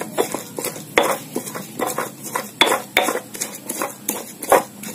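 Garlic being mashed with metal utensils, a close series of irregular scraping and knocking clinks with uneven rhythm, no speech.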